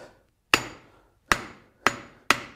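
Four loud, ringing hammer blows on an anvil while forging a big nail, evenly spaced with brief metallic decay after each strike and no talking.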